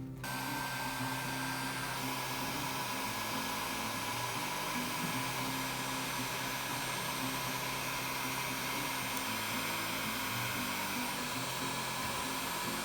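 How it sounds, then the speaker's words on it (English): A heat gun blowing on old wallpaper gives a steady, close airy whir with a faint motor hum that runs unbroken throughout, with no voices. "I'm going to just take the heat gun,"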